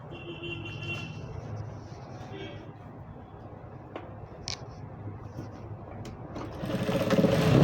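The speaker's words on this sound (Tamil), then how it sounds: "இப்போது இந்த கேப்பை அப்படியே தைச்சிட்டு வந்துடணும்." A sewing machine stitching palazzo fabric in a tailoring class runs as a steady mechanical whir beneath a voice explaining, then builds louder toward the end.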